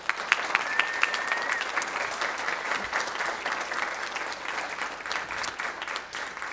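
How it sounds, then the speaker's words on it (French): Sustained audience applause fills a hall, welcoming the Quebec chief electoral officer at a youth and democracy event; dense steady clapping with a few sharper claps near the start, no talking over it. "On peut lui donner une bonne main d'applaudissements."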